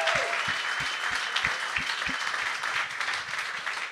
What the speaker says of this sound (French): il donne une bonne main d'applaudissement.